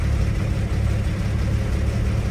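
A 1957 Chevrolet 3100 pickup with stainless exhaust idles steadily up close, a smooth, even low rumble holding constant throughout with no revving and no voices.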